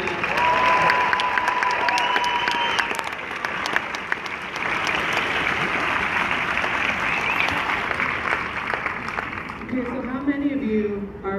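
A crowd at an outdoor walk event in chilly Denver weather applauds for several seconds, a dense, steady roar of clapping that fades toward the end as someone begins speaking.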